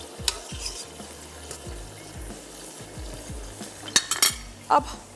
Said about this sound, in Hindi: ऑलिव पोमेस ऑयल और इसको मैं स्पून की मदद से थोड़ा सा मिक्स कर लेते हैं